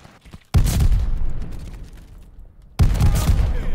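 Two heavy shotgun blasts in the video game Call of Duty Vanguard, each a sudden loud boom with a trailing decay, spaced a couple of seconds apart.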